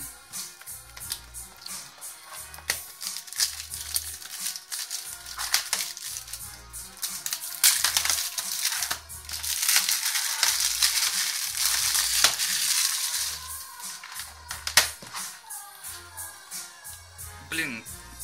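A plastic-wrapped Logan movie package is opened: close crinkling and crackling of plastic film, tearing and rustling in irregular bursts, louder through the middle, with a low thumping hum underneath.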